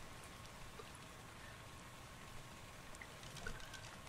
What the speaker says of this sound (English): So, it's raining on Scorched Earth.